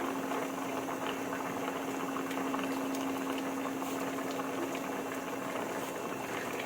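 Pickled bamboo shoot curry with snakehead fish bubbles at a steady, close rolling boil, a continuous dense simmer with no voices.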